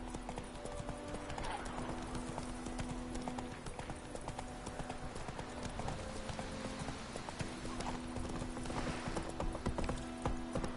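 Hooves of the horse Roach gallop in The Witcher 3, a steady, fast clip-clop that continues throughout over a dense game background of ambience and music.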